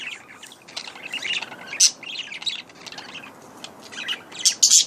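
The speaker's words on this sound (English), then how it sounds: "Did you guys hear that chirp?" Pet parakeets chirp indoors in quick, bright, high tweets, scattered irregularly over a faint background rustle, with several sharper calls toward the end.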